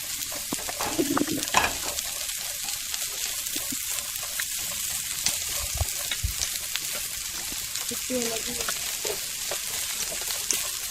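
Onions fry in hot oil over an outdoor fire during village-style jungle cooking, a steady close crackling sizzle with a few soft stirring scrapes.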